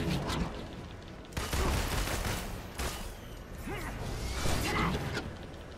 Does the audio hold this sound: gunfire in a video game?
yes